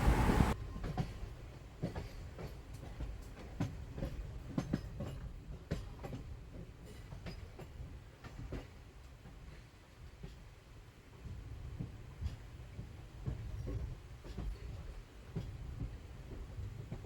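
Gour Express, train 13154 from Malda Town, running toward Naihati Junction, heard from inside as a steady, loud rumble of wheels on rails with repeated clickety-clack beats over track joints throughout.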